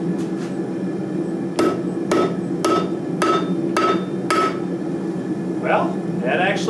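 Forge weld hammered on a 130 lb Peter Wright vise: six sharp, ringing metallic blows spaced about half a second apart, close and loud, followed by brief bursts of hiss or scraping.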